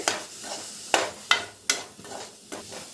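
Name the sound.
stirring coriander powder and garam masala in pan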